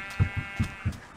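Four short sheep bleats from Minecraft, evenly spaced and fairly close, each a brief nasal 'baa' against faint ambient hiss.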